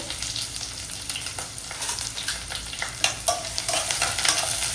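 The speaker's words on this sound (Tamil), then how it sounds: "இப்போ தூள் வெங்காயம் கருவேப்பிலை, வெங்காயமும் கருவேப்பிலையும் சேர்த்துட்டு" Onions and curry leaves sizzle steadily in hot oil while being stirred, with a constant frying hiss and frequent soft scraping from the spoon.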